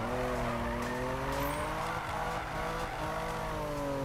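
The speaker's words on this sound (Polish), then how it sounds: "Bardzo fajnie wygląda ten drift" BMW E46 GTR drifting in the racing game Need for Speed 2015, engine droning at high revs under a sustained tire squeal, loud and continuous with shifting pitch.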